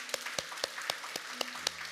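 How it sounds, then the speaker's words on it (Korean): During a Sunday worship service at Seoul Dream Church, the congregation claps in a slow, even rhythm: about seven sharp, separate claps land at a regular pace, fairly faint, with a soft sustained tone held beneath. "우리 하나님께 감사의 박수를 드리겠습니다"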